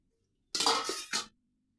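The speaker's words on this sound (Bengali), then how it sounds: "এরপরে প্লেট এভাবে ধরে এভাবে উল্টাবো" A plate turned over onto pumpkin fry cooked in a banana leaf gives a brief, close clatter of dish and utensil contact in two quick bursts, the second shorter, with quiet around them.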